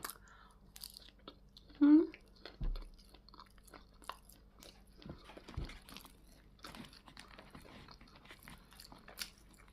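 Close, quiet chewing and biting of fried pork with sticky rice, soft crunchy bites scattered across several seconds in a hushed room, with brief vocal sounds and faint background noise.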